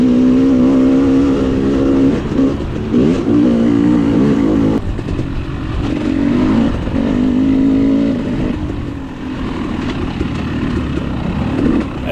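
A KTM 300 dirt bike accelerating hard during a hare scramble race, a loud, close, continuous engine roar rising and falling as the throttle opens, with no voices.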